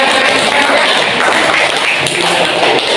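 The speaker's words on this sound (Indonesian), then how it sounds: "kasih tepuk tangan kelompok 3" A vocational-school class claps for group 3, a loud, dense burst of applause from the students that fills a short stretch without a break.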